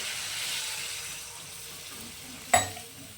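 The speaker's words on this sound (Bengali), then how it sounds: "এই পর্যায়ে আমি দিয়ে দিচ্ছি হালকা গরম উষ্ণ গরম জল" Lukewarm water poured into frying masala for aloo matar paneer, a steady watery hiss and sizzle building to a short splashing burst near the end, close and moderately loud with no talk.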